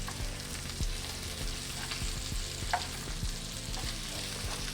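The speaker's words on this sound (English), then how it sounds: "I'm just gonna flip these shrimp really fast" Shrimp fry in a pan with cooked egg and give off a dense, steady sizzle. Quick clattering scrapes and taps come through as the shrimp are flipped, and a low rumble of heat runs underneath. Nobody talks.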